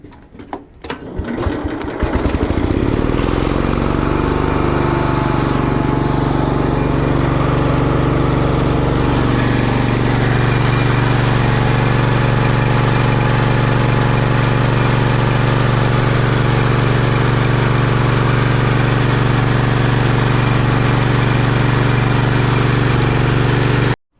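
Vintage garden tractor engine cranking briefly, then catching and settling into a steady, loud, close idle that keeps running without a break.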